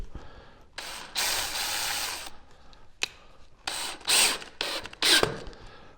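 A drill drives a screw into a pocket hole joint in wood, whirring in several short bursts of varying length with brief pauses between, fairly quiet and close.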